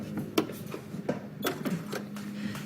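A sewing machine stitches a corner of a New Look 6292 garment in short bursts, its needle thumps and whirring motor stopping and starting close by, with no voices.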